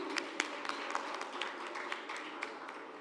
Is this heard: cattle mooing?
no